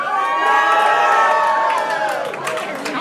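Crowd at a live hip-hop show cheering and whooping loudly for about three seconds, a dense wash of shouts and screams close up with scattered high yells.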